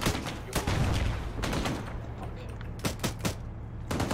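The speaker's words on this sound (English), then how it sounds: "get suppressive fire on direction southwest" Suppressive gunfire rattles out in a military video game in sharp, loud bursts and single shots with short gaps between them, and radio-style voices speak over it.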